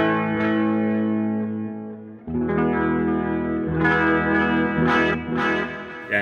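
Electric guitar through a BOSS DC-2 Dimension chorus pedal, hard-panned left and right, playing sustained shimmering chords with a wide, lush chorus wash and bright picked notes, loud and alone.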